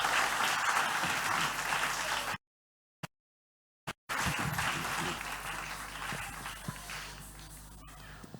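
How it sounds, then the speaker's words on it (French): Congregation clapping in church, a dense burst of applause that cuts out for over a second, then resumes and gradually fades with scattered claps. "On applaudit le Seigneur."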